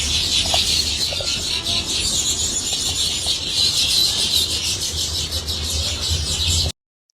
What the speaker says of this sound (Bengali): এখন আপনাদেরকে সকালের একটা পাখিদের কিচিমিচির আওয়াজ শোনাবো গাইস